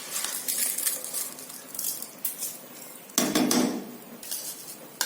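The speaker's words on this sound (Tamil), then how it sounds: "இப்போ நம்ம ஊற வச்சிருக்க ரைஸை அதில் ஆட் பண்ணுறோம்" Soaked rice is poured into a pot of half-cooked chicken biryani, giving a pattering, rustling scrape with metal clinks from the pan and spoon, close and moderately loud, with a sharper burst partway through.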